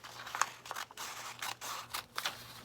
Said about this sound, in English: So take your scissors and just cut off what didn't make it into that triangle.